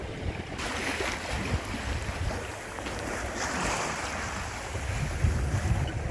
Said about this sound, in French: il y a un peu de clapot, donc il va falloir que je barre un peu là quand même